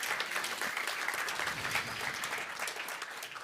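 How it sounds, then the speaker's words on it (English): Conference audience applause, dense and continuous clapping from a seated crowd, even in level from start to finish with no talk over it. "let's give them a big hand of applause for coming here"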